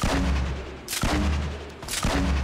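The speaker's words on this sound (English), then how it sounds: "Grenade launcher is spamming." Grenade launcher in the video game Fortnite firing in quick succession, three sharp booming blasts about a second apart, each with a heavy low thump and a short rumbling tail.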